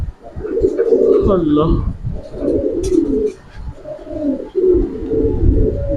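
Jumper pigeons coo repeatedly at close range, with soft throaty rolling calls in several phrases, while people talk over and between the calls.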